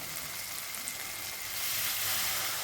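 Water poured onto a spice paste frying in a pan hisses into a loud, steady sizzle that swells noticeably about halfway through, with no talking.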